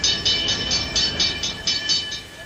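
A train rolls along in a regular rhythmic pulse, about ten evenly spaced beats over a steady mid-level rumble, with no talk.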